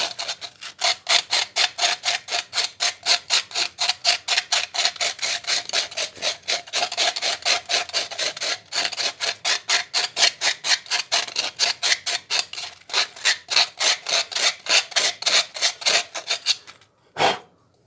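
The rim of an aluminum drink can is sanded with coarse 100-grit 3M sandpaper. Quick, even back-and-forth rasping strokes repeat close-up for about seventeen seconds, then stop, and a single soft knock follows.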